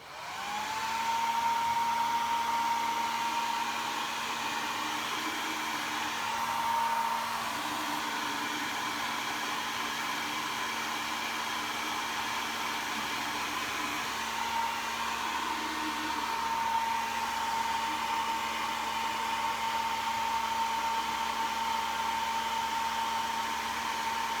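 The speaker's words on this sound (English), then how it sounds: "I'm going to put the blow dryer on just to dry them" A hair dryer drying glass jars runs continuously with a steady whirring hum and high whine, close and unbroken, no voices.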